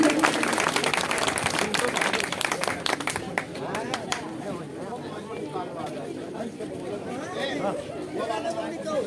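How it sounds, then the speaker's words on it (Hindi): At a Republic Day flag-hoisting ceremony in a village panchayat, a crowd claps loudly for about four seconds, then the applause fades into murmuring chatter and voices of people talking nearby. "एक बार जोरदार तालियों से"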